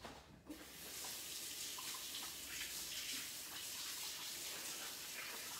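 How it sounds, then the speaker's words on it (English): A kitchen tap runs steadily as hands are washed, a continuous close rush of water after a brief opening clunk, with no talking. "I'm gonna wash my hands."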